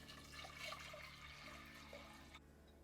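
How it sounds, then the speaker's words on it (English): A liter of water is poured into a pot of toor dal seasoned with salt and turmeric, giving a steady, close splashing rush for over two seconds before it cuts off abruptly. "Next, a liter of water."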